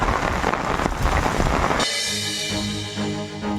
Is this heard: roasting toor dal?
no